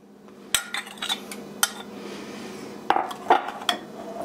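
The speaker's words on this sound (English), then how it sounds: "Now we're going to add that liquid mixture to our yeast" A liquid mixture is stirred into yeast in a bowl for dinner rolls: a spoon clinks and knocks against the bowl a handful of times, sharp and close, with quiet gaps between strikes.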